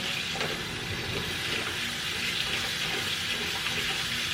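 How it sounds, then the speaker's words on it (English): Quiet, continuous sloshing as a hand swishes water around rice in a bowl, close by and gentle. "use my hand, and I kind of swish it around."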